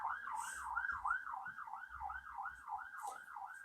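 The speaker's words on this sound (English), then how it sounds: "Sorry, I'll just wait for the siren." A wailing emergency siren sweeps up and down in a steady repeating cycle, fairly clear and prominent, with faint rumbling and clatter beneath it.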